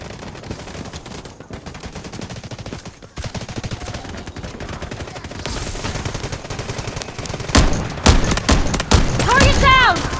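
Video game battle gunfire rattles as continuous automatic bursts and fusillades, growing denser and louder toward the end with sharp explosive cracks, under game sound effects and occasional background voices.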